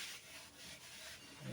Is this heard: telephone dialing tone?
no